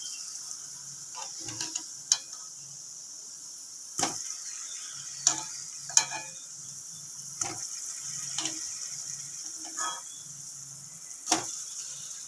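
Semolina pantua balls frying in hot oil, a soft steady sizzle dotted with sharp clicks and taps of a utensil against the pan, no voices.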